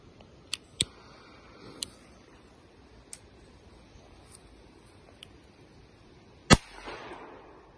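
A Dumum Mikro firecracker set off outdoors in the open goes off with one sharp, loud bang, followed by a short rumbling tail, after a few faint ticks and clicks.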